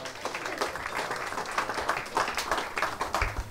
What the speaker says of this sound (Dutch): Maak een warm applaus.